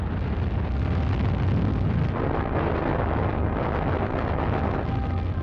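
A huge rocket launch burning oxygen and hydrogen with two million pounds of thrust, heard as a continuous loud, rumbling roar that stays steady and dense throughout, with no voices.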